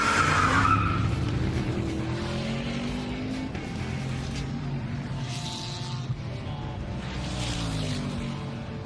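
Several cars, among them an old Corolla, accelerate hard together in a simulated drag race, with layered engine tones climbing steadily and a squealing edge. The sound is continuous and fairly loud from start to finish, with no talk.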